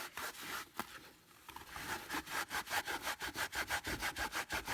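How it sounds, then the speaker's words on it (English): A worn canvas cloth rubs briskly along leather edges, a dry scraping swish that settles into a fast, regular back-and-forth rhythm of about a dozen strokes, close and fairly quiet with no talk. "So I'm just going to rub and rub and rub and rub"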